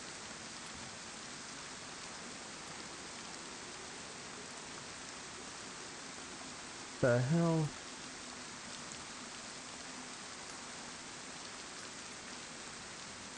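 Steady rain falls in the survival game DayZ, a constant even hiss that fills the whole stretch, broken once midway by a short spoken exclamation.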